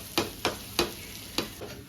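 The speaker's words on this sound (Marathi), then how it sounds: "आता यांना छान मंद गॅसवर तळायचे. मच्छी फ्राय करतो तसंच सेम करायचं." Gentle sizzling of vegetarian fish-fry pieces shallow frying in a pan on low heat, with a few soft tapping stirs at an uneven rhythm.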